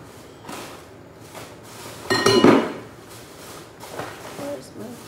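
Moroccan tomato salad being mixed in a bowl, with clinks and scrapes of a utensil against the dish, loudest in a brief burst midway, while a voice talks throughout.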